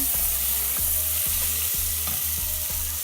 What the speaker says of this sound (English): In the butter, we add some onion